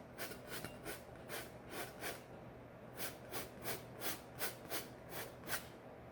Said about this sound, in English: But we're really scraping that paint into the canvas.